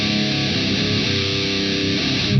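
Death metal guitar run through the This Heavy Earth Flesh Rot amp sim and captured with a Dynamic 57 mic, a loud, dense, heavily distorted wall of sustained chugging riffs that plays on continuously without a break, with no voices.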